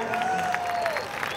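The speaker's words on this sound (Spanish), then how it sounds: "un aplauso para la familia" Steady applause from a crowd, dense and continuous, with a faint whistle-like tone gliding through it.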